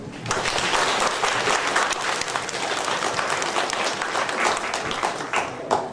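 Audience applause at an embroidery exhibition of family heirloom needlework, a dense, steady clapping from a sizable crowd that carries on unbroken, close and full, with no talk over it.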